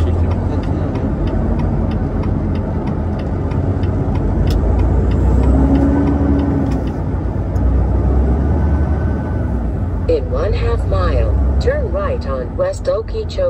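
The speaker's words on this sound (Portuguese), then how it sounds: "Não para de vir carro" Road traffic with cars passing continuously beside a railway line, a steady engine and tire rumble running throughout under a person talking, with other voices joining near the end.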